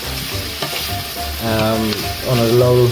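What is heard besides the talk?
onions frying in olive oil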